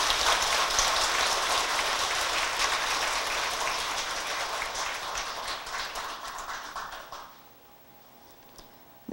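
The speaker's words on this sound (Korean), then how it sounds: "큰 박수로 모시겠습니다." An audience at a Buddhist temple ceremony claps in sustained applause that rattles on steadily, then thins out and fades to near silence toward the end, with no voices over it.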